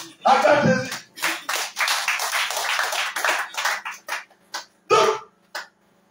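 A church congregation at a prayer night in Liberia claps in short bursts, loud and close, with voices calling out between the claps and a final cluster of claps near the end.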